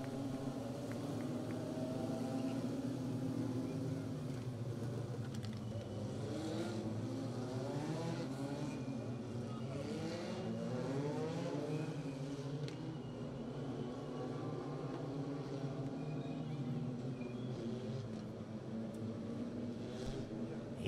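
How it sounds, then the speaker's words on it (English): INEX Legend race cars roar around Riverhead Raceway during a heat race, engines droning steadily with repeated rising and falling passes blending into a continuous loud rumble. "Heat race number 3 for the INEX Legend Race Cars."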